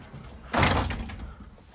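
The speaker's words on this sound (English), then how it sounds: "close the door back down" A single soft thud of a door being shut, fairly close, followed by a brief rattling decay in a quiet space.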